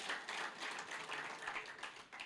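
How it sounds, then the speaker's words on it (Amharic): A church congregation claps together during a sermon, a steady, dense patter of many hands held at a fairly low, even level throughout. "አጨብጭቡ እስቲ በዚህ አጋጣሚ ለጌታ ክብር።"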